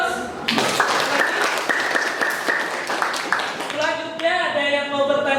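A class of students applauds together in a classroom, a dense burst of clapping lasting a few seconds before fading into voices.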